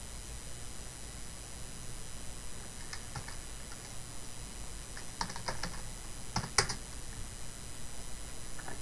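Keys on a computer keyboard are tapped in scattered short bursts of soft clicks over faint background hiss, typing a search into Google, with no one speaking.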